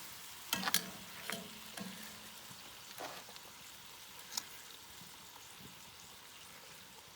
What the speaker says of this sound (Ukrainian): масло трохи піджарилось